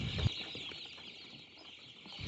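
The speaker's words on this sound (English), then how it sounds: "So today I've just picked up 420 turkeys." A flock of 420 newly arrived farm turkeys, white, bronze and black, giving a soft, steady chatter of clucks over a constant background hiss, with a brief thump near the start.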